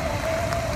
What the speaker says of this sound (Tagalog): umihina na yung ulan.